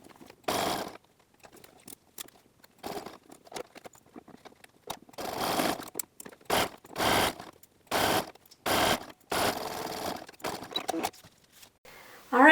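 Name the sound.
sewing machine sewing elastic onto bikini fabric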